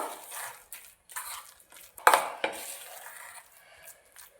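Kitchen handling sounds from mixing a bitter gourd stuffing by hand with curry leaves, salt and sugar: soft rustling and squishing, a few sharp clicks of a utensil against a bowl, close and fairly quiet, with no talk.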